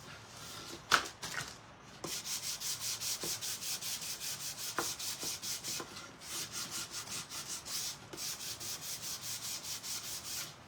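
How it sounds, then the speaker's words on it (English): Light hand sanding with 600 grit sandpaper, a rapid back-and-forth scratchy rubbing in long even bursts with a few short pauses and a couple of knocks, fairly quiet and close. "That's going to be a light sanding, but at least it gets off all of that debris, all that wax, and I can sand it a little bit harder."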